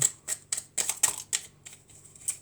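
Tarot cards being shuffled by hand produce a series of crisp, papery riffling bursts, close and moderately loud, arriving in quick irregular clusters with brief pauses between them.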